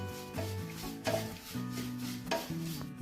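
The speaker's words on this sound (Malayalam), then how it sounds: "അതിലേക്ക് നമുക്ക് അവലിട്ട് കൊടുത്ത് നന്നായിട്ടൊന്ന് റോസ്റ്റ് ചെയ്തെടുക്കാം" Flattened rice (aval) roasting in a pan, with close, intermittent scraping and stirring rubs and a soft dry sizzle over a few seconds.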